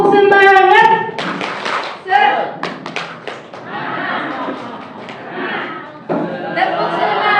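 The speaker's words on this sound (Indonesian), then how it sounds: "Biar tambah semangat, tepuk semangat." A training-session group performs tepuk semangat, a rhythmic spirit clap, in short patterned bursts of hands, mixed with a leader's chanting voice and group responses.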